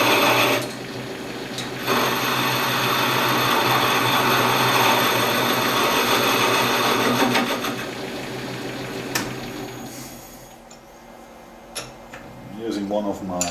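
A carbide boring bar machines the bore of a pipe made of material that is hard to cut, giving a steady loud lathe-and-cutting drone that runs for about ten seconds before easing off, with a voice briefly heard near the end.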